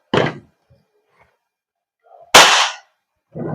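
Three sharp gas blowback shots from an Armorer Works HX2401 airsoft pistol, each a loud close crack with a brief mechanical snap of the slide, spaced irregularly over a few seconds with quiet gaps between.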